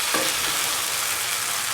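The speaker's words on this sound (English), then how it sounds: "Keep on sauteing." Eggplant and rice mixture sautéing in a pan for aubergine fried rice, a steady sizzle and frying hiss with a few stirring scrapes, close and continuous throughout.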